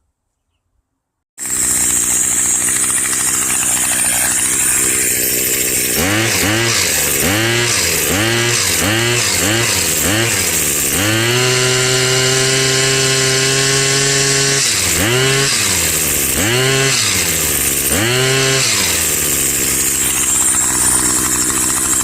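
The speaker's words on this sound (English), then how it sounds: "put the string trimmer head on, see if it'll fire up, see if it'll run" A Craftsman WS2400 gas string trimmer engine starts up loud and close, then revs repeatedly in rising and falling bursts, holds a long steady high rev, and settles back into more rev swells, running alone.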